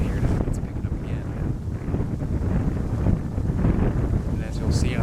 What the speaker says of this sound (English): The wind did pick up and gust a little bit heavier.